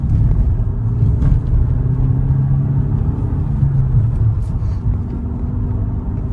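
A 1997 BMW 316i Compact E36 drives on the road, a continuous low engine drone and road rumble heard from inside the car, steady with slight swells in revs.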